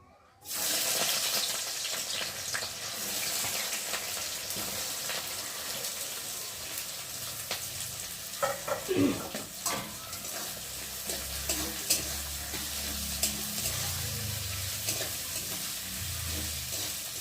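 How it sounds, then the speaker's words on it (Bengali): Onions fry in oil with bay leaf, giving a continuous close sizzle after a sudden start. Faint utensil clinks and some splashy water-like sounds come through midway, with no talking. "পেঁয়াজটা একটু লাল লাল করে ভেজে নেব।"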